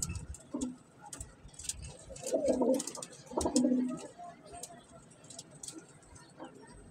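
Pigeons coo in two soft, low, rolling phrases, fairly faint, over a light background of repeated ticking.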